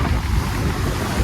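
Sea waves at Marina Beach surge and wash under heavy wind buffeting the microphone, a loud, continuous roar with no clear breaks and no talk.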